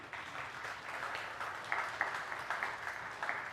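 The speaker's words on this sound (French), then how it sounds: "on peut l'applaudir" Faint applause from an audience honouring a woman who has just given birth, a steady patter of clapping heard from a distance with a few sharper claps standing out.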